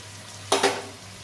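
Mustard-chili paste hits a hot pan and is stirred, giving two quick sizzling bursts with a scrape, over a quiet steady hum.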